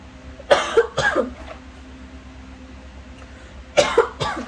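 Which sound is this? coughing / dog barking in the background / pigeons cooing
coughing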